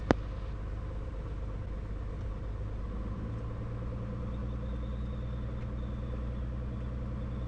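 Light aircraft engine idling and rumbling steadily at low power while taxiing to the runway holding point at Lausanne, a continuous droning hum heard from inside the cockpit with no talk.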